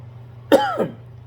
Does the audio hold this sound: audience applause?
no